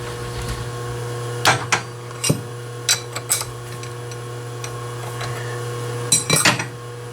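A metal lathe facing off the end of metal stock for center drilling runs with a steady motor hum, while a string of light metallic clinks and scraping ticks sounds irregularly over it.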